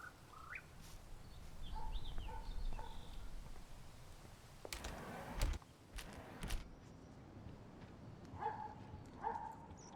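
A bird trapped indoors in the video game Life is Strange Remastered gives several short, faint chirps and calls over a low room hum, with a few louder thuds partway through.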